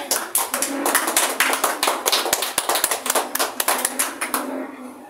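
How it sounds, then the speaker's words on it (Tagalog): A small church congregation in San Mateo, Rizal, claps with close, sharp, distinct hand claps in an uneven, quick patter that thins out at the end. "isa pong malakas na palakpak sa Panginoon"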